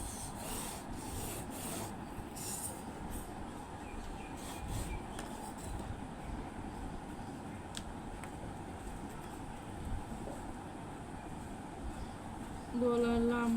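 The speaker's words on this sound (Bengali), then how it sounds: "এবার দাগটা সোজা করে টেনে নেব।" Chalk or a marker is drawn along fabric to mark a straight line for cutting a round neckline, a soft repeated rubbing scrape close by, with a brief louder noise at the end.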